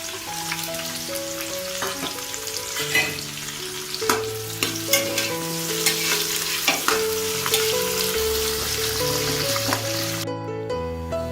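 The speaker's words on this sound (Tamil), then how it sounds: "இதை போட்டு நல்லா வதக்கிடலாம்." Sliced onions and a large green chilli sautéing in ghee for ghee rice, a steady sizzle beneath irregular spatula scrapes and sharp clinks against the pan, continuing for several seconds with no talking.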